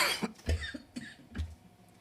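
Several close coughs in quick succession, harsh and throaty, with a short throat-clearing quality, fairly quiet and with no talk over them.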